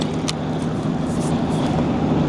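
Steady road traffic rumbles and hisses from bridges overhead, a continuous broadband wash of passing cars with no distinct individual vehicles and no speech.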